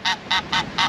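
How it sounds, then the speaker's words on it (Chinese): Geese at a pond on a small island in Lebanon honk four times in an even rhythm, each call loud, close and nasal, with short quiet gaps between them. "你看那些鹅"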